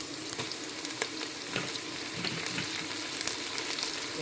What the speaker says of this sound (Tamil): சேர்த்து இதை நல்லா வதக்கிக்கிறேன்